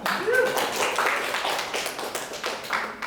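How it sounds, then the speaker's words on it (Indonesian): Scattered clapping from a small crowd at a tech meetup, uneven and moderately loud, with voices chattering underneath. "Tepuk tangan buat kalian semua"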